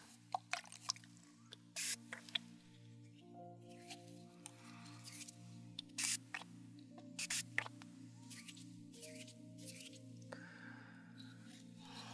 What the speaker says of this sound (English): I'm going to spray my hands, and then I'm going to spray around you.